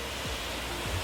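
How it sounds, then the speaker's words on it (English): Kintampo waterfall in Ghana, a steady broadband rushing roar of falling water, constant and fairly close, with no talk. "I'm descending the waterfall."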